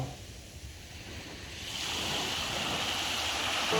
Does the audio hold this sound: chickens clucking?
no